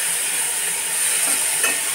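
Spiced fish frying in a pan with very little oil, with Kashmiri chilli powder added, stirred gently: a close, continuous sizzle and hiss with light scraping.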